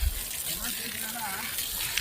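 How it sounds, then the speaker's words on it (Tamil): Irrigation water gushes steadily onto a garlic field in the Kodaikanal hills, a continuous close rush with a voice speaking faintly over it. "முதல்ல நம்ம நிலத்துக்கு தண்ணீர் பாய்ச்சணும்."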